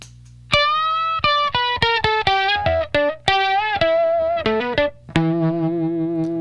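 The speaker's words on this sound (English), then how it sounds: "With the first octave turned on the Johnny Octave, it sounds like this." Electric guitar notes played in a quick, lively phrase through a ZVEX Johnny Octave pedal adding a higher octave, giving a bright, slightly synthetic tone, ending on a sustained note.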